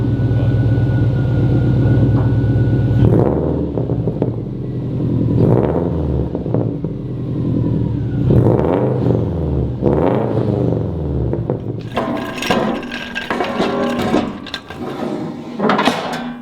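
A Subaru WRX fitted with a custom exhaust idles with a deep burbling drone, then is blipped through several sharp revs that rise and fall in loud, close bursts.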